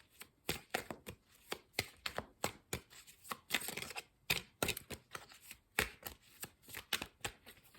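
Tarot cards being shuffled and drawn, a quick run of crisp riffling flicks and slaps in an irregular rhythm, close and fairly quiet, with no voices.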